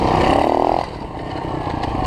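Dirt bike engine revving hard for a wheelie, a loud raspy rev for under a second that drops to a rough, sputtering idle.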